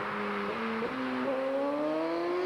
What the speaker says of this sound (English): Bikes sound really gnarly too, though. It's like a higher pitch